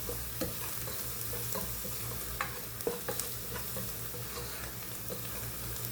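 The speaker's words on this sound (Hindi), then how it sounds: "एक 2 मिनट फ्राई करिएगा ताकि हींग की पूरी रॉ स्मेल चली जाए।" Asafoetida (hing) sizzles in hot oil in a pan while being stirred for kala chana masala, a steady low frying hiss broken by scattered utensil scrapes and taps, close and moderately quiet, with no talking.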